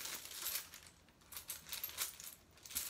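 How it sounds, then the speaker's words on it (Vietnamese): Japanese coins are picked through and sorted, giving soft, repeated metallic clinks and jingles in quick irregular bursts, close by and quiet. "Để mình đang lựa một vài đồng cho các bạn xem."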